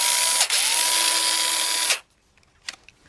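A 16-year-old Makita DA312D right angle drill, clogged with sawdust, runs with a steady high whine for about two seconds, then cuts off, leaving a few faint clicks.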